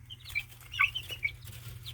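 Small chickens, including buff Brahma bantams, cluck and chirp in a few short, scattered calls over a low steady hum, close by and fairly soft.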